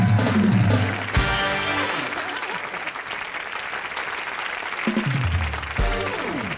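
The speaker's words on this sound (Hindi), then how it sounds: "शत्रु जी के लिए जोरदार ताली" Loud studio audience applause at a live comedy show taping, sustained clapping under music that swells and fades, with brief musical stings over the crowd.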